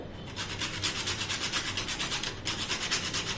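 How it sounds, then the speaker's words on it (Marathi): Nutmeg grated into a sweet dish, a close, steady rhythmic rasping of rapid scraping strokes that runs continuously with a brief pause, no voices. "आणि थोडंसं जायफळ किसून घ्यायचं याच्यात"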